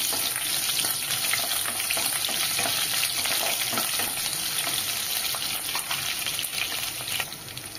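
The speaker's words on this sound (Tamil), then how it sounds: "இப்போ நான் ஒரு 10 சின்ன வெங்காயம் எடுத்து உரிச்சு வச்சுருக்கேன். அதுவும் சேர்த்துக்கிறேங்க." Small onions, about ten peeled shallots, fry in oil for an oil brinjal kuzhambu, giving a steady close sizzle with occasional stirring scrapes throughout, no talking.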